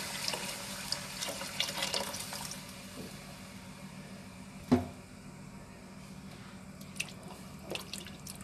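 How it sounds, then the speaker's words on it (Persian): About two to three glasses of water poured into a pot of walnuts for Gilan-style eggplant stew: a steady running pour with a few drips and one sharp clunk partway through. "2 تا 3 لیوان آب بهش اضافه میکنیم."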